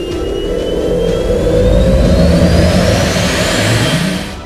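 A TEI-TJ300 turbojet missile engine roars loudly and steadily with a rising whine, swelling in the middle and easing off toward the end.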